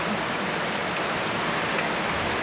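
Steady outdoor rain falls where two young elephants play in the downpour, a dense continuous hiss with scattered drops, close and fairly loud with no voices.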